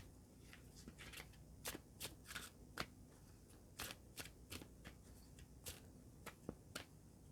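Tarot cards being drawn and handled from a deck, giving a scattered series of sharp papery snaps and flicks, fairly close and quiet with no talking.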